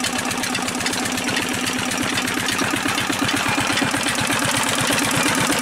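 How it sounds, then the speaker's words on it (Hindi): A 12 HP diesel engine with no air cleaner drives a village sugarcane crusher, chugging in a steady, rapid low thump that stays loud and even throughout, with no voices. "ये डीजल इंजन है, रखते हैं"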